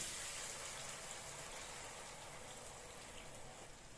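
Water is poured into a hot pan of frying goat liver for a spicy pepper fry, giving a steady broadband hiss and sizzle that fades slightly over four seconds, with no talking.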